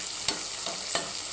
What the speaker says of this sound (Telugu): ఇదండి కరివేపాకు వేసాను, పోపు వేసుకుందాం